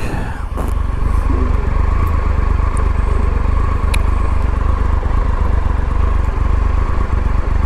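A loud motorcycle engine drones steadily up close while riding through light London traffic, its constant rumble broken only by small clicks and a brief higher whine.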